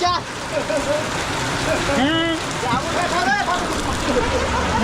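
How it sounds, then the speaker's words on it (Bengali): Steady heavy rain during a storm hissing across the whole clip, with people talking loudly over it nearby. "সেই লেভেলে বৃষ্টি, ভিজে ভিজে শেষ।"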